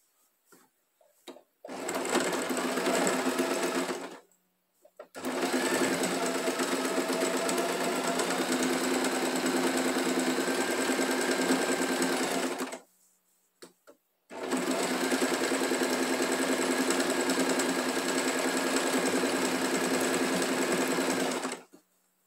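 A sewing machine stitching red satin fabric for a braided headband: loud, close, steady motor whir with rapid needle chatter in three long runs, broken by brief stops and a few small clicks.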